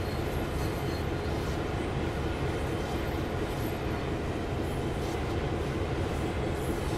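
A train in Train Sim World 4 on the Toronto commuter line rumbles steadily and loudly with dense low-frequency roar and hiss, constant for the whole stretch with no voices.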